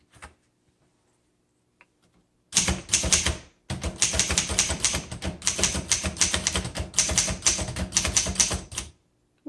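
A 1956 Underwood Golden Touch manual typewriter is typed on in fast bursts of crisp, loud key strikes, starting after a quiet moment and continuing with a brief pause before a long run of rapid clacking.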